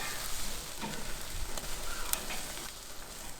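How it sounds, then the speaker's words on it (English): Lamb chops sear on a hot barbecue grill with a steady, close crackling sizzle that runs throughout, with faint scraping and clinks scattered on top. "Get a good sear on both sides"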